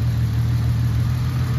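A Toyota Supra engine running steadily with a dead miss, a continuous low rumble held at close range with no talk over it.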